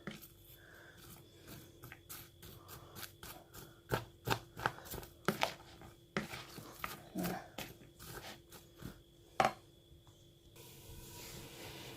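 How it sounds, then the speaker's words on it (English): Chopped onions being mixed into pakora batter make wet, squelching clicks and slaps in an uneven rhythm, close and fairly quiet, with a few louder thumps. "chuck in the onions like so, and mix it all together like so"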